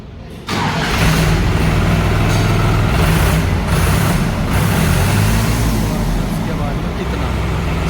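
A New Holland 3630 tractor's diesel engine starts up and then runs steadily at a constant idle, loud and close, a continuous low rumble with no talk over it.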